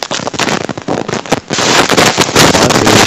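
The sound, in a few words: secondary explosion of a speeding car crash in a played video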